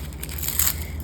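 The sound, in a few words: peeling the dry skin off an onion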